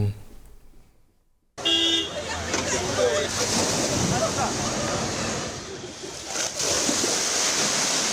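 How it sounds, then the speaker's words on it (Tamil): Heavy monsoon-season sea waves surge and crash along the Mumbai shore in broadband roaring surf after a short quiet lead-in, with traffic noise and a faint horn mixed in and a voice talking over it. "பல அடிக்கு ஆக்ரோஷமாக அலைகள்லாம் சீரக்கூடிய காட்சிகளை தான் தற்போது நாம பார்த்துட்டு இருக்கோம்"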